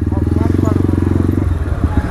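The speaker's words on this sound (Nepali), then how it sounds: "हामी माथि बाइक त ल्याइरहेको रहेछ" A motorcycle engine runs loud and close with a steady throbbing drone, rolling past a crowd on a busy New Year's day road, with voices talking over it.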